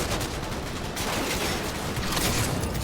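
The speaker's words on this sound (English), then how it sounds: "It's a massively OP shotgun." Shotgun blasts in the Cyberpunk 2077 game, dense loud gunfire filling a short stretch of busy combat noise with no talk.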